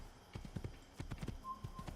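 Horse hooves gallop in the Assassin's Creed video game with a quick, rhythmic clip-clop of repeated thuds, close but fairly quiet, with no speech over them.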